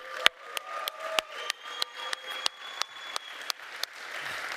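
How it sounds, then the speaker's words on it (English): Applause at a live Codegarden 2022 conference session, heard as sparse, evenly spaced sharp claps in a slow steady rhythm rather than a dense crowd roar, fairly close and moderately loud. "huge round of applause."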